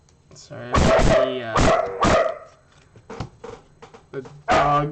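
Dogs barking close by, several loud sharp barks in quick bursts with short yips and whimpers between them, alongside a voice speaking.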